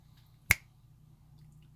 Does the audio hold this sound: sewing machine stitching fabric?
no